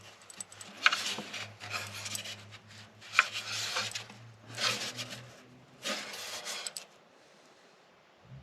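Irregular scraping of 120 grit sandpaper along a wooden ukulele edge, several uneven bursts of rubbing at moderate distance over a low steady hum, fading to quiet at the end.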